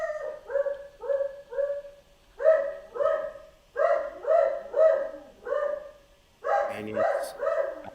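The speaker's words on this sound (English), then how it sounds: "I apologise for my dog going ballistic in the background" A dog barks repeatedly and frantically, in short clusters of three or four sharp, loud barks separated by brief pauses, with some yelping at the end.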